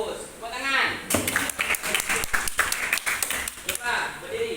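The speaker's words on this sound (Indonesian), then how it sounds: "Baik, bagus. Tepuk tangan." Students clapping in a classroom, a burst of uneven hand claps that starts abruptly and runs for a few seconds, mixed with voices talking in the room before and during it.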